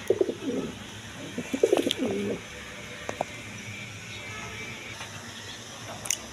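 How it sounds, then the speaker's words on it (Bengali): A pair of Indian Nazrana Kaldam pigeons sitting on eggs coo in a few close, short bursts near the start, then quieter moments with faint clicks and stray sounds, and no talking. "এইখানে আরেক পেয়ার কবুতর আছে, ইন্ডিয়ান নাজরানা কালদম কবুতর আছে"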